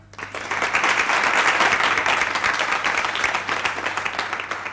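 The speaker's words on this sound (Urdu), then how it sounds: "تالیاں" Audience applause at a formal gathering of guests, a dense steady wash of many hands clapping that swells quickly and holds for several seconds before easing slightly, with no voices over it.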